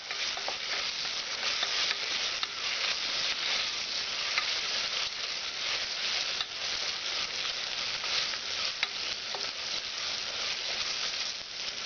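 Spices fry in a pan while being stirred for chicken pulao. A dense, continuous sizzle holds steady and fairly loud for the whole stretch, with faint scrapes of stirring.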